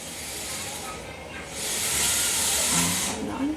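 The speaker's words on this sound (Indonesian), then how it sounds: "Udah meletup-meletup ya, pastikan dia mendidih teman-teman biar langungnya berkurang." Water heated in a pot for a herbal remedy, a soft hiss building into a louder steady steam rush as it comes to a boil, then easing off, with faint bubbling and no clear talk.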